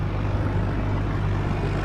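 A propeller aircraft engine drones steadily at an airfield with aircraft restoration workshops in England, a constant low rumble with no breaks and no voices.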